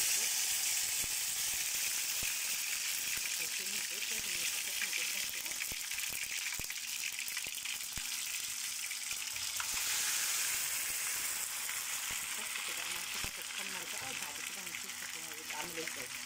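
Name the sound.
potatoes frying in hot oil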